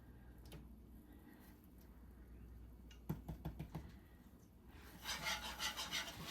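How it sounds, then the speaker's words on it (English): A spoon scrapes and rubs against a pan while bacon gravy is stirred on high heat. The soft, rasping strokes repeat irregularly, with a short burst of sharper clicks in the middle and a louder scraping stretch near the end. "But you just keep stirring it to put it on high. And just keep stirring it until it gets brown."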